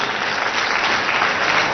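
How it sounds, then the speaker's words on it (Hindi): Steady, dense applause from a seated audience at a gathering in Nagpur, loud and continuous without pause. "एक जोरदार ताली हमारे शिबू जी के लिए"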